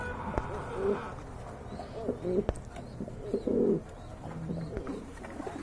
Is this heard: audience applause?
no